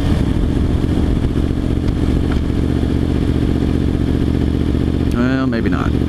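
A 2023 Yamaha R1 sport motorcycle engine drones steadily and loudly, then climbs in pitch near the end as it revs toward about 7,000 RPM in quick shifts, with a clattering rattle underneath.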